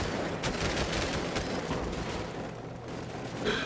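Rapid gunfire from the Cepheus Protocol strategy game, a dense continuous crackle of shots and fusillade running throughout with no pause, loud and busy with battle noise.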